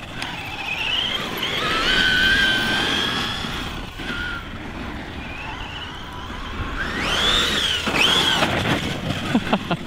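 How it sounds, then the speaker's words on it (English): A Team Associated Rival RC truck with a TEKIN 1700kv brushless motor and RX8 speed controller on 4S/6S power runs hard, its motor whining and squealing as it rises and falls in pitch, loud and close, with rumbling terrain noise underneath. "my team associated rival with the TEKIN 1700kv brushless motor and RX8 ESC running on 4S and 6S"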